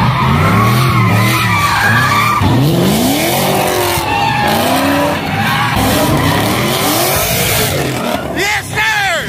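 A car on drift tires with zero camber slides around at a street car meet, tires screeching in long rising and falling squeals over a roaring, revving engine, close and loud, with people talking and shouting nearby.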